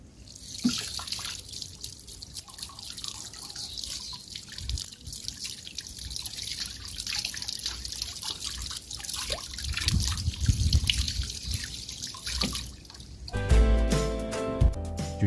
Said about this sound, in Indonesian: Yuk kita mencuci tangan.